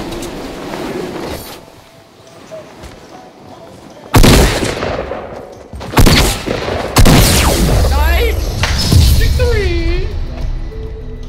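SCAR assault rifle fire in the video game Fortnite, several loud close bursts breaking out in separate volleys among game effects, with players talking between and over the shots.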